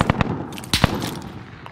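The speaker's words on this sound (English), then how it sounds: "Gunfire will alert you to an enemy's presence." Several sharp bursts of video game gunfire crack out in quick pairs, loud and close, followed by a lingering rumble of battle noise.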